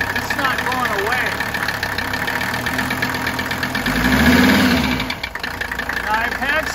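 A Mercedes 300TD wagon diesel engine knocks just off idle, a loud steady clatter that swells briefly as it is revved and then settles back, close to the microphone.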